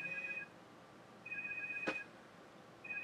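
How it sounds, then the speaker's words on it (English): A phone's electronic alert chimes in short repeated bursts, fairly quiet and close, with a brief sharp click between the tones and no talking. "Literally, the phone goes, I get a text"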